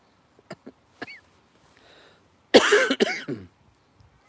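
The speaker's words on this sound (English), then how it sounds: "I've got a bit of a cough." A person with a cough on a live stream coughs harshly twice in quick succession, close to the mic, after a few soft clicks and small mouth noises.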